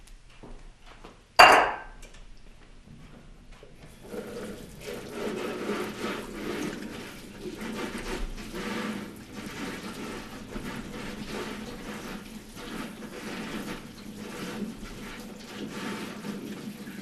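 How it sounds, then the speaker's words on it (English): Water running steadily from a sink tap during handwashing in a home kitchen, a continuous close hiss that starts after a sharp clatter and keeps going to the end. "I'm going to leave this aside and wash my hands"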